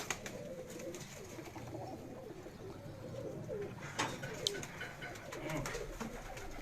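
Pigeons coo steadily in low, murmuring bursts at a breeder's home, with a few sharper chirps and bird calls mixed in over soft background noise; no one speaks.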